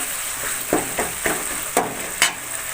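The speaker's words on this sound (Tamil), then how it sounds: "வெங்காயம் தக்காளி எல்லாமே நம்ம நல்லா கூட்டளவுக்கு வந்து நல்லா வதங்கிடுச்சு" Onions and tomatoes sautéing in a pan for village-style kuravai fish curry, a constant close sizzle broken by about five distinct spatula scrapes and stirs at a steady rhythm.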